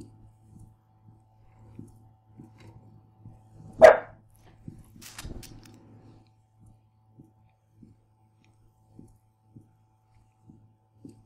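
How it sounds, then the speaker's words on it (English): A dog barks once, sharp and fairly close, during a quiet stretch of play in Condemned 2. A softer second yelp follows, over faint rhythmic heartbeat-like thumps. "And my dog barked."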